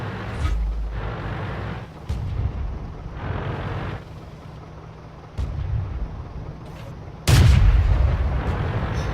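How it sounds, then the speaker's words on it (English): Booming tank cannon shots in the World of Tanks video game, several heavy low blasts spaced apart over a continuous engine rumble, the last one loudest and closest. "That shot hit the ground in front of him, missed. He turns his turret, I decide to take a shot."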